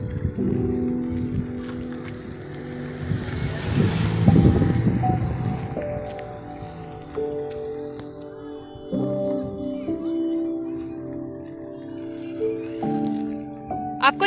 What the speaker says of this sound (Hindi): साथ ही यहाँ गाड़ियाँ भी ज़्यादा निकल रही है